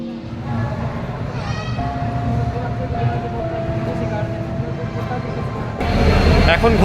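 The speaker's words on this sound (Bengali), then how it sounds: "ঘড়িতে ছটা চল্লিশ গাড়ি এসে পৌঁছালো আগ্রা ফোর্টে" A 12987 Sealdah–Ajmer Express train rumbles into Agra Fort station steadily with a sustained mechanical drone and tonal whine, growing louder and harsher near the end, with talk faintly underneath.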